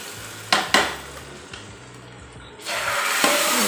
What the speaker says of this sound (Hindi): अब हम लगा रहे हैं तड़का।